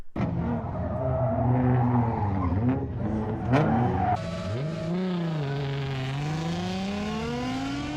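A drift car on a race track, fitted with nitrous, squeals its tires in long, wavering howls over a loud revving engine, the pitch sliding up and down as it slides through corners.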